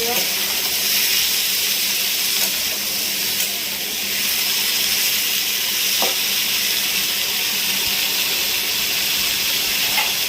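Cabbage and potato curry frying in hot oil in a home kitchen pan, a loud, steady sizzle and hiss that carries on unbroken, with a faint clink or stir now and then.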